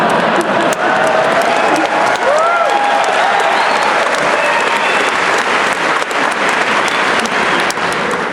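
A live lecture-tour audience in Salt Lake City fills the room with dense, loud applause that runs unbroken throughout, with a few faint voices mixed into the crowd noise.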